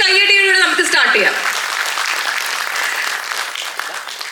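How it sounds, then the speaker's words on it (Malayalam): An audience at a film success celebration breaks into a big round of applause, rising as a voice fades out and continuing as steady, crowded clapping for several seconds. "can we congratulate ourselves with a big round of applause?"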